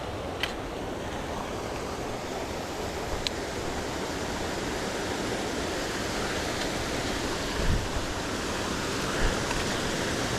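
Steady, even rush of a creek at a trail crossing, continuous and fairly close, with no voices and only a couple of faint ticks over it.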